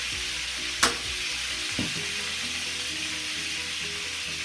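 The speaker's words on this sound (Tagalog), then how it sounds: "First step yun, dapat prituin mo muna." Chicken pieces sizzle steadily in a pan, a half-cooked first fry before the dish is simmered as afritada; the frying hiss stays continuous, broken by a sharp clack near the start and a softer knock a second later.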